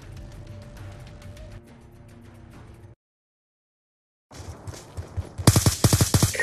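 Peacekeeper weapon fires in a video game; after quieter ambience and a moment of silence, a burst of rapid loud shots rings out near the end.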